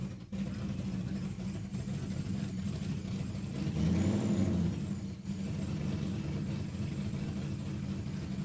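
A drag race car pulling out of the burnout box at Saskatchewan International Raceway, its engine droning steadily and swelling briefly in a louder rev midway, heard at moderate distance.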